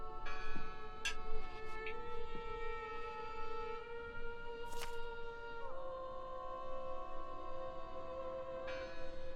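A church bell tolls inside the Draugen game world, its sustained ringing tones overlapping with a few sharp metallic strikes, moderately loud against a low background hum with no talk.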